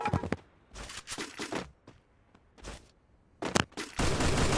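Gunfire in the Free Fire battle royale video game: several short bursts of automatic fire separated by brief gaps, loud and close, ending in a sustained burst.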